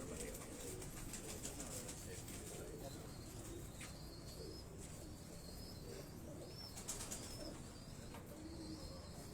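Teddy pigeons coo softly on a rooftop, low faint calls repeating against a quiet outdoor background, with some sharp chirps and a few background sounds scattered through.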